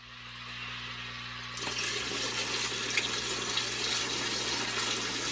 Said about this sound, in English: It is literally taking forever to fill up all these reservoirs.